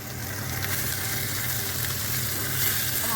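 Mushrooms frying in a pan for mushroom polao, giving a steady, even sizzle and hiss that runs unbroken from start to finish with no voices.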